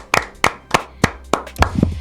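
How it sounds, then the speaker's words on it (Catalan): Hands clap in a studio, about six sharp, evenly spaced claps, close and loud, with a brief low murmur at the end. "un aplaudiment pel Nuno de Castro que ens està aquí mirant"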